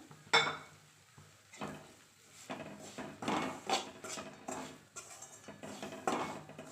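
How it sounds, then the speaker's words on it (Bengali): Utensil scraping and clinking in a pan while flour, semolina and nuts are fried and stirred for a date-palm jaggery halwa, with repeated bursts of stirring strokes at close range and no talk. "আমি ভালো করে একটু ভেজে নিই।"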